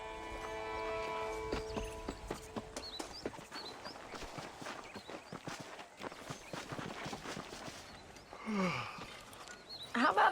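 Steady clip-clop of horse hooves from Red Dead Redemption, the western video game, a regular trotting rhythm that runs throughout, with musical tones at the start and a brief snort or whinny near the end.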